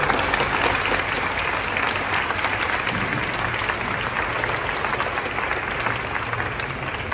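Thick, continuous audience applause at a live stage show, loud and even from start to finish with no pause.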